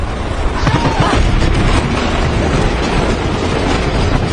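A loud, continuous train roar fills the clip, dense rumbling with faint rhythmic clatter, close and enveloping as if inside a tunnel.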